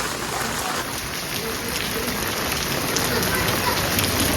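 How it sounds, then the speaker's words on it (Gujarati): Heavy monsoon rain pours in Gariyadhar, a loud, dense and unbroken hiss of drops hitting surfaces close by across the whole stretch. "આવો વરસાદ છે ગારિયાધરમાં"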